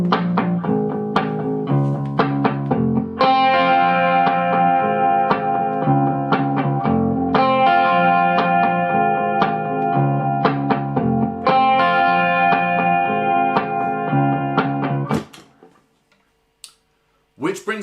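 Distorted electric guitar playing the verse part of a song, a loud riff of repeated picked chords that runs for about fifteen seconds before stopping abruptly.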